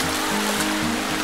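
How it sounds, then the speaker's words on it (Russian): Rushing stream flowing through the Psakho river canyon near Sochi, a steady broadband water roar with a low, constant rumble, loud and continuous with no voices. "Вот такой вот каньон реки"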